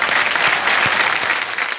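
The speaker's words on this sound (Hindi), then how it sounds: "मैं आप सबके लिए मैं चाहूंगा कि आप खुद अपने लिए जोरदार ताली बजाएं।" Audience applause at an awards show: a large crowd claps loudly and steadily, forming a continuous dense wash of claps that stays even throughout.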